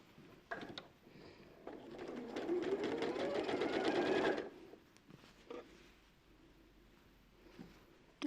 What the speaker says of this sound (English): So you don't even have to cut your strip, you just have to sew it while it's all attached.